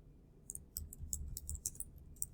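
Keys on a computer keyboard click during typing, a quiet, uneven run of light taps with short pauses between bursts.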